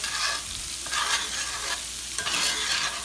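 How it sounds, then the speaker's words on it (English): Onions sauté in a hot pan with a steady close sizzle and the scrape of a spatula stirring in periodic sweeps, no voices over it. "get them onions sauteed, get them soft"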